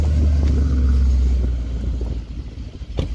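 A Mercedes-AMG car with a suspension that will not lower starts up. The engine gives a loud low rumble that gradually settles and fades into a quieter idle, with a brief click near the end.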